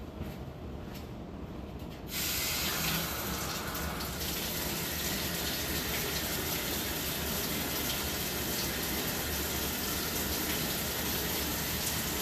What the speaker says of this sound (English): Water from the sink.